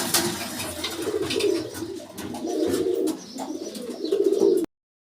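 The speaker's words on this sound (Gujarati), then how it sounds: "આપ જોઈ શકો છો કબૂતર" Pigeons in a loft setup coo close by, low throaty rolling calls repeating in overlapping phrases, with faint wing flutters and chirps mixed in before the sound cuts off abruptly.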